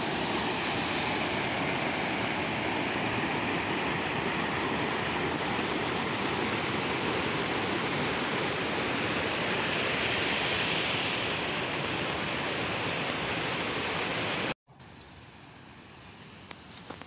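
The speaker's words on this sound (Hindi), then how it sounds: "ये पानी चश्मों से आ रहे हैं माशाल्लाह, बहुत ठंडा पानी है" Icy-cold water from mountain springs at a scenic spot in Pakistan, rushing in a steady loud broadband wash for most of the clip, then cutting off abruptly near the end to a quieter background.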